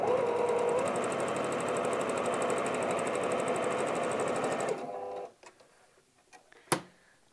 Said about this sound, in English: I'm just going to do a quick row of a straight stitch using the crease mark as my guide.